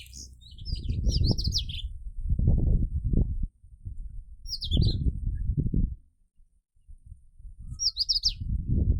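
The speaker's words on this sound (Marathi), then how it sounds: "आणि पक्ष्यांचा विहार चालू आहे." Small sparrows and other village birds chirp in quick high bursts among flowers in a rural Maharashtra countryside, the calls coming in three clusters over a steady low rumble of nearby ambient noise.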